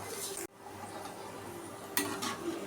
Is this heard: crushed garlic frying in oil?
yes